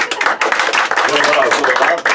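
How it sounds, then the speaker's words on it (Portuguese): A short burst of clapping honours a participant during a worship ministry talk, close and lively, with voices speaking over the applause. "salva de palmas para o Olavo."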